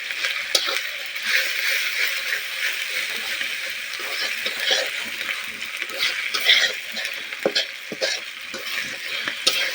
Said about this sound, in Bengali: এইগুলোকে একটু ভাজা ভাজা করে নিব আদাকে আর রসুনকে